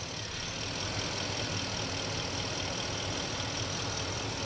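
A 2011 Ford F250 with the 6.2L engine idles steadily after a misfire repair, a continuous even rumble with a constant broadband hiss, close and unbroken throughout with no talking.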